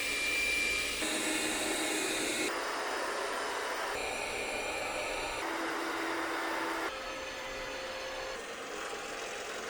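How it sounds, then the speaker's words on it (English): Several budget robot vacuum cleaners run one after another, each a steady whirring hum with its own pitch and loudness. The segments change abruptly, moving from louder units to quieter ones, and no one speaks. "I measured the relative noise of each vacuum, and here they are from loudest to quietest"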